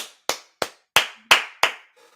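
Six sharp hand claps in an uneven rhythm, close and loud, each with a quick decay, followed by a faint trailing sound.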